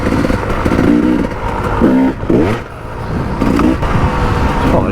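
Off-road motorcycle engine revving loudly and continuously up close, with rising and falling throttle bursts and clattering mechanical noise throughout.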